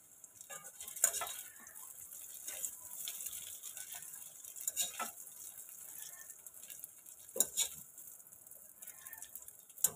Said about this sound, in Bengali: ম্যারিনেট করা সয়াবিনগুলো আমি অল্প অল্প করে ভেজে নেব